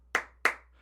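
Two sharp hand claps spaced about a third of a second apart, clapped to switch on a clap-activated device in a quiet room, each with a short decaying ring and no talking.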